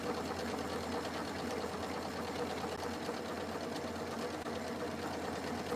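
A sewing machine runs a decorative stitch across a Christmas tea towel, giving a steady, unbroken mechanical whir at close range with no talking.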